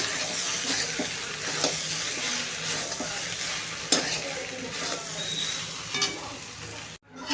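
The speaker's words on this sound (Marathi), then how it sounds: "तर हे मी मस्तपैकी फ्राय करून घेते." Street-style Schezwan chicken noodles fry in a pan, a dense continuous sizzle with occasional sharp stirring clatter, ending in an abrupt cut.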